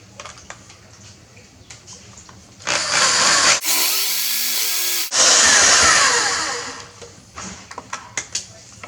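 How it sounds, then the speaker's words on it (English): A power drill drives a screw through a 2x10 board into a wall stud, countersinking it: two loud, close whirring bursts of a few seconds each, with a short high-pitched spin between them and light clicks and handling noises around them. "I'm going to countersink it in a little bit."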